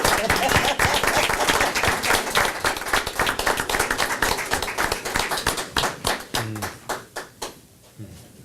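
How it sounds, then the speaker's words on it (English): A round of applause at a city council meeting, a dense burst of many hands clapping that thins into scattered individual claps and fades out near the end. "let's give them a round of applause"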